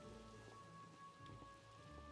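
Rain falling in the Minecraft video game, a steady hiss of drops pattering on surfaces with faint scattered taps, quiet and continuous under a low background tone, no speech.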